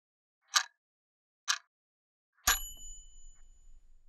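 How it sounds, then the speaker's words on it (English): A single bright quiz bell ding rings out to close a trivia round's thinking time, a sharp struck tone with a long ringing decay, following two short isolated clicks in an otherwise quiet gap. "And that's the bell."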